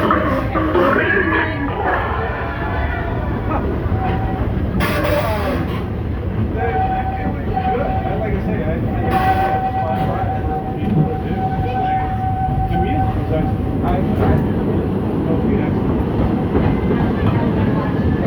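The Walt Disney World Railroad train rumbles along in motion with a steady rolling clatter of wheels on track, loud and close throughout, while voices chatter over it and a brief tonal hum passes through the middle.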